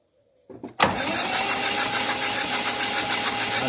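A tractor engine cranks with a short stutter, then catches and roars to life, settling into a loud, close, pulsing idle.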